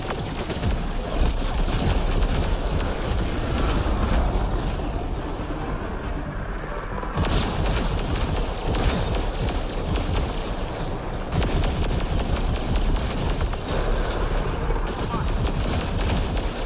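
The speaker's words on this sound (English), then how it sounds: "this is my sexy, sexy plasma rifle" Plasma rifle fire in the sci-fi game Mass Effect Andromeda, a loud, dense stream of rapid energy-weapon shots that runs almost continuously, broken by a few brief gaps. Game effects and a voice sit underneath.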